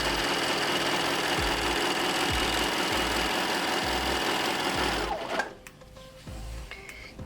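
A serger sews a rolled hem along fabric, its fast rhythmic mechanical whirring running steadily for about five seconds before stopping, leaving a quieter clicking and light handling noise.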